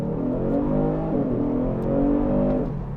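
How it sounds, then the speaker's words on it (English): A 2020 Genesis G70 sport sedan's 365-horsepower engine revs and pulls as the car accelerates, its tone climbing in pitch, heard from inside the cabin. "we'll see what kind of acceleration this car has"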